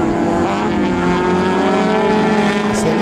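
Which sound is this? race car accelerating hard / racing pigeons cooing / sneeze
race car accelerating hard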